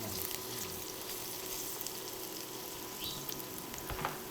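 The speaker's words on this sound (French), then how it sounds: "je prends les oignons, l'ail et le gingembre, je mets dans de l'huile" Onions, garlic and ginger frying in oil in a pot give a soft, steady sizzle with faint crackles, quiet and continuous without talk.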